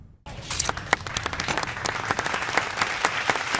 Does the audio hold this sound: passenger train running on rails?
no